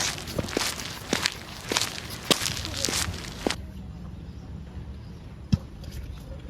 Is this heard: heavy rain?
no